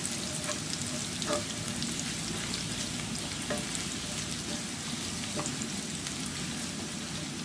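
Garlic fries in hot oil for Thai beef tongue noodle soup, giving a steady, close sizzle and crackle with faint scraping and stirring clicks throughout.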